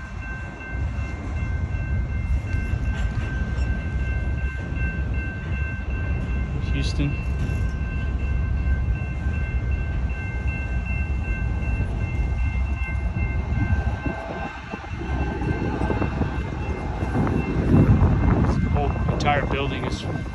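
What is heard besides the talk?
train passing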